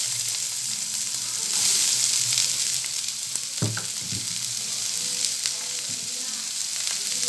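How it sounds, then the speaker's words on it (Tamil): Hot oil sizzles steadily while mustard seeds crackle and splutter, with a few sharper pops standing out partway through. "இப்போ நான் வந்து கடுகு இதில் சேர்த்துக்கிறேன் கடுகு வெடித்ததும்"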